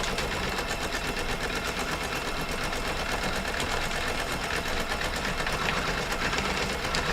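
A sewing machine stitching a bag, running a fast, steady mechanical chatter of needle strokes that continues evenly and fairly loud throughout.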